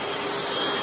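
A cordless vacuum cleaner running on M18 batteries roars with a dense, steady rushing drone of suction, close and loud for a brief moment with no talking.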